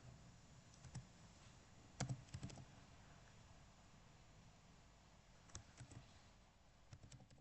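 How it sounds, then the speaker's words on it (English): Faint clicks of typing on a computer keyboard come in a few scattered bursts, entering a localhost address into a browser, quiet and close with no voices. "I'm gonna go to the browser and type in localhost 3000."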